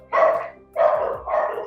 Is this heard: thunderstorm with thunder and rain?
no